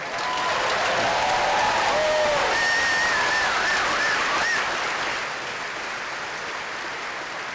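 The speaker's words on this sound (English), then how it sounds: "All right, round of applause" A high school graduation crowd breaks into loud, sustained applause, with whoops and cheering voices riding over the dense clapping before the volume eases slightly toward the end.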